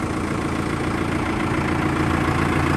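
A TR5 tractor engine idles on a cold early morning before field work, a steady, continuous low rumble with even vibration that holds at constant loudness throughout, with no voices.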